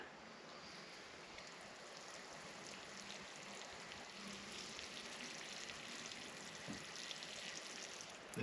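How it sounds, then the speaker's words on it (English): Water is poured gently onto soil around a freshly repotted two-year-old savannah-style ficus bonsai, a quiet, steady trickling wash that swells slightly toward the end, faint and close with no talk. "Then just a little water."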